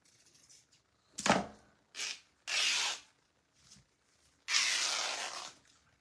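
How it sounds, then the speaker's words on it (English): Fabric being ripped by hand during Christmas ski-kit crafting: several short, bursty tears, the last one longer and louder. They are close and come in irregular bursts with quiet gaps between them. "Anybody else love to hear the fabric rip?"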